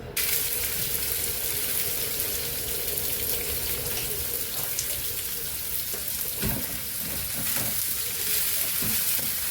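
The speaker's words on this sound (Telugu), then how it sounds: "ఇది కాగిన తర్వాత ఆవాలును, తర్వాత ఈ తాలింపు గింజలు వేసుకొని తాలింపు పెట్టుకుందామండి." Mustard seeds and tempering seeds frying in hot ghee for an Andhra-style tempering, giving a steady, loud crackling sizzle throughout, with a few sharper pops near the end and no talking.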